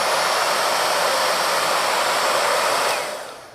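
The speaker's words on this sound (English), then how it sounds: "I like to stick the hairdryer in here and poof it out like a balloon" A hair dryer blows into a split taxidermy ear for a pack mount, puffing it out. Its steady, loud, close airy roar runs unbroken and then tapers off at the end, with no talking.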